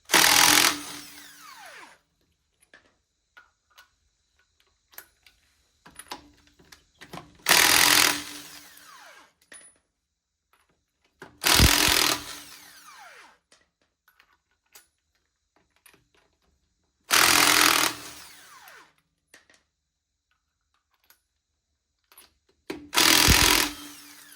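A power tool removes wheel lug nuts in five short, loud bursts spaced a few seconds apart, with quiet clinks and handling noises between them and no talking.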